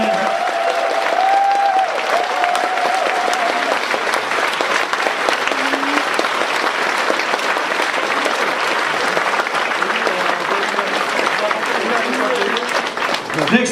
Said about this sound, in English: Give her a big round of applause for Pam.